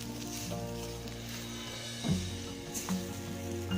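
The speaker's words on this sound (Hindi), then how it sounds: "तो इसको मिक्स करेंगे।" Moong dal lentils with fenugreek sizzle steadily in a hot pan while a spoon stirs them, with a couple of soft scrapes against the metal.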